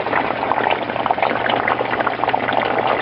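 Water flowing through an aquaponics pipe with a ball valve and out under rocks into a pea gravel bed, a constant close bubbling, gurgling trickle with no break.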